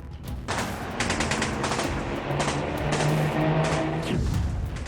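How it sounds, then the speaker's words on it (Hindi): Rapid bursts of gunfire crackle in quick succession, loud and sustained, with sharp overlapping reports and a low rumble beneath. "ताबड़तोड़ फायरिंग"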